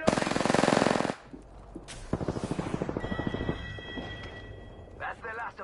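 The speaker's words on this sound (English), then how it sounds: "They're shooting at me." Rapid gunfire rattles in a shooter video game. A dense roar gives way to a string of quick, evenly spaced shots, and then electronic tones and chirps take over as the firing stops.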